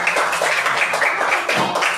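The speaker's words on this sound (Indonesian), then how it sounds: "Beri tepuk tangan" Classroom applause as students clap for a group after their answer in a Quran tajwid lesson, a dense, steady patter of many hands filling the short span at moderate loudness.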